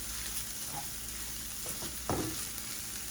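Corned beef frying and sizzling in a pan on a turned-down stove, with a steady close crackle as a utensil stirs it, giving a few scraping strokes and one sharper knock near the end.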